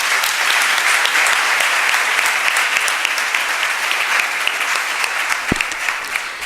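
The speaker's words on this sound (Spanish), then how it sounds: "Un aplauso, por favor, para el doctor." Audience at an international arbitration congress applauds a doctor taking the stage, a full, steady roar of many hands that holds for several seconds and eases slightly near the end.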